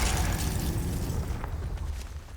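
A Confringo fire spell explodes in Hogwarts Legacy, a heavy booming blast with a loud low-end rumble that sustains over dense, roaring battle noise throughout.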